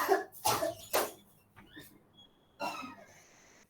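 Three harsh coughs in quick succession, close and loud, followed by a short pause and then another rough cough with a throaty tail.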